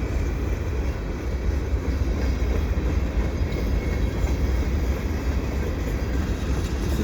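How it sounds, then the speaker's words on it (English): A CP freight train rumbles past in winter, hauling flat cars with loads and auto racks behind heritage SD70ACU locomotives, a steady loud low roar of wheels and cars throughout with no voices. "This is a quite interesting train"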